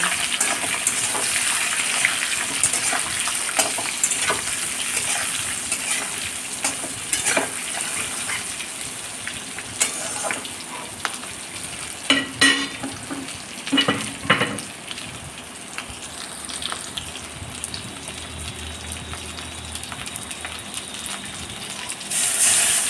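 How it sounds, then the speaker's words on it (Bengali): Fried drumstick vegetables stirred in a mustard-poppy tempering in a pan, giving steady close sizzling with intermittent scraping strokes and clatter of the spoon, no talk. "ফোড়নের মধ্যেও ভেজে রাখা সবজিগুলো দিয়ে দিচ্ছি। ভালো করে নেড়ে নেব।"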